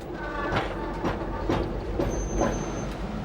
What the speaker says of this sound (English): It requires the power of a shunting engine to move 40 tons of railway carriage into position